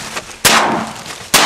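Two loud, close shotgun blasts go off during a duck hunt in Eastern Washington, the first after a short pause, each with a sharp crack and a decaying echo.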